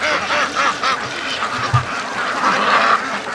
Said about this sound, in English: Oh, another Muscovy's flying home.